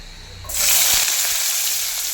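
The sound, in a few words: diced potatoes frying in oil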